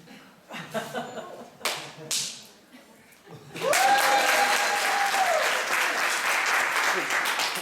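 Audience applause bursts out after a magician's cut-and-restored rope trick at a family reunion, a sustained, dense clatter of many hands following a few scattered claps and voices.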